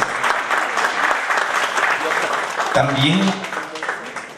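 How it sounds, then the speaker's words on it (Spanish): Steady applause from a crowd, a dense patter of clapping that holds throughout, with a voice briefly speaking over it. "Gracias por los aplausos, muchas gracias."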